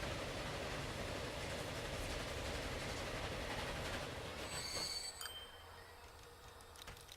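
Train carriages in Transport Fever rumble and clatter steadily along the rails, a dense rolling noise that cuts off abruptly, leaving faint squeals and quiet ambience.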